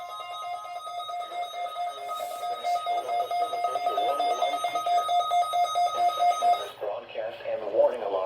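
An Oklahoma county emergency alert system warning tone for a required weekly test holds steady and shrill for several seconds, then shifts and wavers near the end, with faint background noise underneath.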